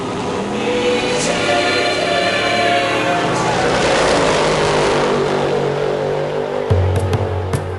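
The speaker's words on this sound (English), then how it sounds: "a beautifully crafted engine with 2 enormous turbos certainly help" A powerful twin-turbo V8 car engine roars steadily as it accelerates hard, loud and close, with a sharp change in tone near the end.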